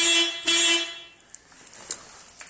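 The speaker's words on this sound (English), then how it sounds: "About to put in air horns." An AH-250 air horn fitted on a 2004 Toyota Corolla gives two short, bright, loud blasts in quick succession, followed by quieter faint clicks.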